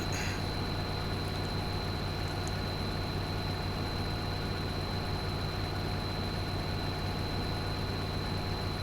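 Tractor engine in a farming video game, a steady low droning hum with a constant whine on top, unvarying and moderately quiet, running alone without talk.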